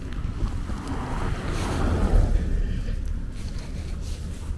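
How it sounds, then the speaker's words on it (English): Strong wind gusts during a Brooklyn blizzard roar over the microphone in broad rushing waves, swelling to a peak midway and then easing, with no talking. "really windy out."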